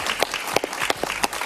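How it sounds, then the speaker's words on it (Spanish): A studio audience on a TV talk show claps for a guest, a brief burst of crowd applause with several distinct sharp hand claps standing out. "Un aplauso para el profesor Briceño"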